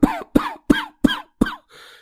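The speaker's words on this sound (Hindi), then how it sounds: "बहुत खांसी हो रही है" A person coughing at night: five short, sharp coughs in quick, even succession, each close and loud, ending in a fainter breathy rasp.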